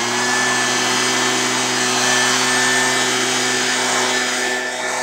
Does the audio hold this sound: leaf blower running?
yes